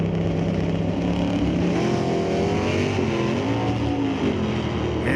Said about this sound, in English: Man, that Camaro sounds cool.